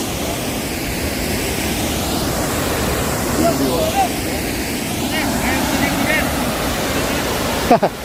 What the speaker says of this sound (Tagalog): Ito pa yung Salmon Falls.